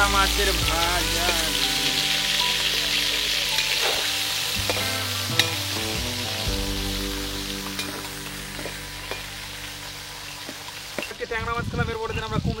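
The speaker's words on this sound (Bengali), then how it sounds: "ট্যাংরা মাছের ভাজা" Small tangra fish frying in a pan, a steady dense sizzle that continues throughout, with occasional stirring knocks and louder clatter near the end.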